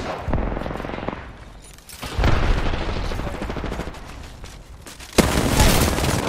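Gunfire in a multiplayer video game, loud rapid bursts and booms that come in waves, with a sharp fresh volley near the end.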